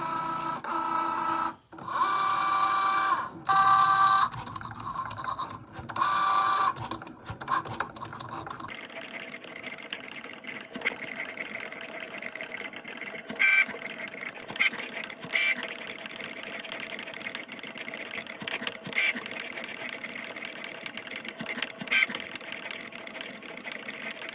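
A Cricut Joy cutting machine drawing with a red fine liner pen on card, giving a steady mechanical whirring and buzzing with repeated short motor bursts, close and continuous throughout.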